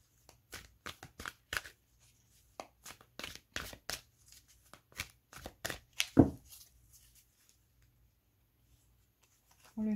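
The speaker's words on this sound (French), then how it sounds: "on va prendre une carte ici pour la relation" Tarot cards being shuffled to draw one for a reading, a run of sharp close riffling snaps and taps, mostly alone and fairly quiet, trailing off into near silence.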